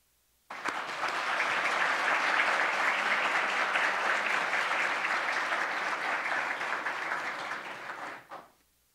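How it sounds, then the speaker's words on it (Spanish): Audience at a regional technical dialogue on prison management in Latin America breaks into warm, steady applause, starting abruptly, holding evenly for about eight seconds, then fading quickly to silence. "A todos ellos le damos la más cordial bienvenida con un fraterno aplauso"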